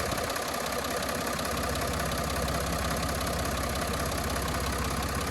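Range Rover TDV6 diesel engine idling with a no-crank, no-start electrical fault, a steady close mechanical rumble and fine ticking that holds constant throughout.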